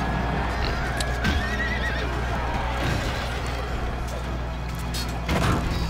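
A horse neighs in the Rome Total War video game amid battle noise, with hoofbeats and a steady din of fighting filling the background throughout.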